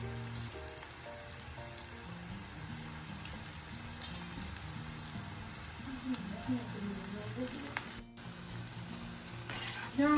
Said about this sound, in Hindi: ये हमें मीडियम हाइट पर ही फ्राई करने हैं